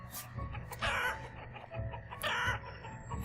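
Chickens clucking in the farming video game Banished, a few bursts of clucks with short gaps between them, moderately loud against a quiet background.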